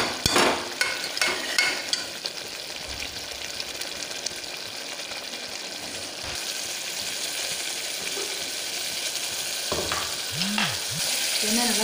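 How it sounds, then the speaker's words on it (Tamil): Turkey berries and garlic fry in oil for a Chettinad-style vathal kuzhambu. A continuous close sizzle carries on throughout, with a few sharp clatters at the start, and no speech. "இப்போ நான் வந்து சுண்டக்காவும் இந்த பூண்டையும் நான் சேர்த்துக்கிறேன். அப்போ தான் நல்லா வேகும்."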